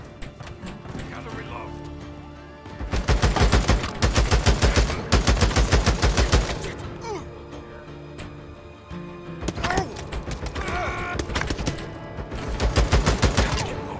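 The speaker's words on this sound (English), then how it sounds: "Missed every single shot then." Automatic gunfire in the video game Days Gone, rapid loud bursts of shots repeating over several seconds with pauses between volleys, mixed under a person talking over the game.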